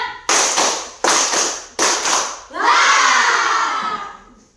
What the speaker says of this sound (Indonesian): Kita tepuk dulu ya